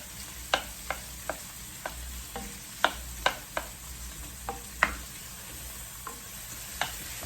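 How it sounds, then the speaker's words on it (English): Bacon frying in a pan with a steady low sizzle, broken by about a dozen sharp spoon scrapes and clicks against the pan as it is stirred, close by and with no talk. "I'm just stirring that bacon up and letting it get good and crispy."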